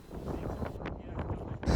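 Wind from the south gusts at a lakeside parking area in rural Sweden, producing an uneven low rumble and buffeting across the microphone.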